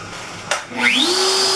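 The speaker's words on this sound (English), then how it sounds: "So I'm going to turn the spindle on." An X-Carve CNC router spindle switches on with a sharp click, then spins up to a steady, loud whine that rises in pitch and holds as the router begins carving.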